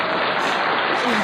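Brief, steady wash of audience applause greeting a guest on a radio show, loud and continuous throughout.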